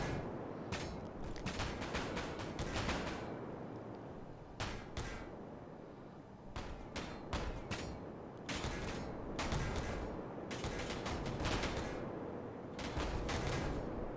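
Gunfire in Space Engineers comes in repeated rapid bursts separated by short pauses, loud and close, with mechanical clatter between volleys.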